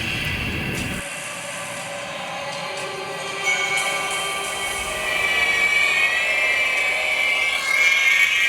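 A train at Bagankodar railway station in West Bengal gives a low rumble and a rising mechanical drone that slowly grows louder, with no voices.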